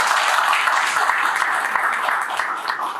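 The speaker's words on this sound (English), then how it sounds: "Let's clap for him first." Listeners at a startup pitch event clap for the presenter, a brisk, steady round of applause from a modest crowd, fairly close and even throughout.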